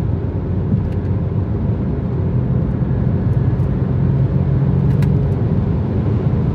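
Interior drone of a Peugeot 208 Hybrid driven in sport mode on an open road: a loud, steady low rumble of engine and road noise with no speech, holding constant throughout.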